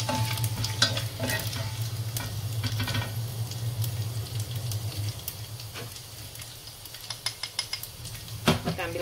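Shrimp paste and chili ingredients fry in a pan with a continuous sizzle, while a utensil stirs and scrapes against the metal in scattered clinks, close and moderately loud, with no voices.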